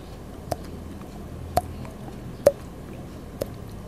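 Four sharp, hollow plinks spaced about a second apart, a cheek being flicked to mimic dripping water, close and fairly quiet.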